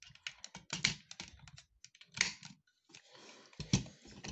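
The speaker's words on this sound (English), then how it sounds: "This tab is going to plug into that connection right there and just click into place, both sides." Plastic parts of a Transformers Studio Series Devastator toy clicking and clattering in quick, irregular snaps handled up close, with pauses between bursts and no voices.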